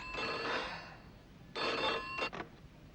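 A telephone rings indoors in two separate bursts of trilling bell tones, fairly clear with quiet gaps between, and no talking over it.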